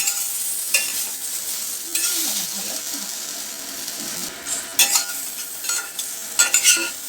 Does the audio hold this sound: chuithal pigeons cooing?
no